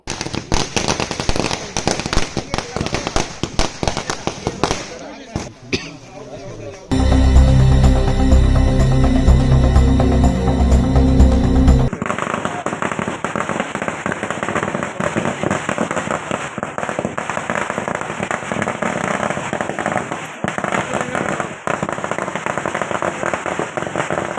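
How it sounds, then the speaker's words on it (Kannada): Rapid crackling bursts of firecrackers at a celebration of a newly elected village council president in Srinivasapura, a dense loud volley in the middle, surrounded by continuous popping and crowd noise. "ಆಯ್ಕೆಯಾದ ನಟರಾಜ್ ರವರಿಗೆ ಹಾರ ತುರಾಯಿಗಳನ್ನ ಹಾಕಿ ಪಟಾಕಿ ಸಿಡಿಸಿ ಸಿಹಿ ಹಂಚಿ ಸಂಭ್ರಮಿಸಲಾಯಿತು."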